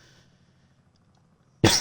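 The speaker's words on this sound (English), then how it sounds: "excuse me for my bad coughs" One sudden, harsh cough bursts out loud and close after a near-silent stretch with only a faint low hum underneath.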